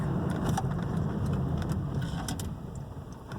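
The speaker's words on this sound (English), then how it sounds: "Now we're gonna check the brakes, and we're going a little bit quick." A used car rolls and slows during a quick brake test on a test drive, with steady road and tire rumble from inside the cabin and a gradual easing of the noise.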